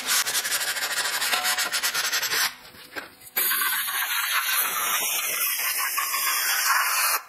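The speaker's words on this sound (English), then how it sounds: "I'm just going to scuff up the surface of my parking brake shoes and remove any glaze that's there." Parking brake shoes on a Porsche Boxster scuffed with 80-grit sandpaper, a steady close rasping rub that pauses briefly partway through and then resumes, with no talking.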